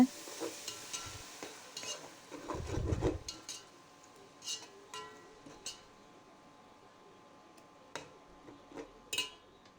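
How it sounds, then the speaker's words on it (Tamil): Yogurt being stirred into mutton dum biryani masala in a pot makes quiet, intermittent scraping and soft wet sloshing strokes, with one thicker stir and faint clicks, close and low in level. "இப்போ தயிர் இதில் ஆட் பண்ணிடலாங்க."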